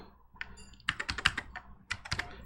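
Typing on a Commodore SX-64 portable computer keyboard, a quick run of close, crisp key clicks in two clusters, fairly quiet and without talk.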